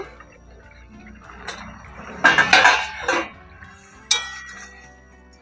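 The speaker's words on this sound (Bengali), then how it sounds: "এবার আমি ঢাকনাটা তুলে নেব" A plate used as a lid is lifted off a pan of cooking pakal fish: a quiet kitchen hum, then a burst of metallic scraping and clinking, followed by a single sharp clink as it is set down.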